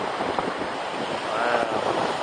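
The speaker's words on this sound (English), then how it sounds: "Yes, this is the east of India, and this ocean is Bay of Bengal." Surf breaking on the Bay of Bengal shore in eastern India, a steady broad wash of waves with wind buffeting the microphone throughout, fairly loud and continuous with no speech.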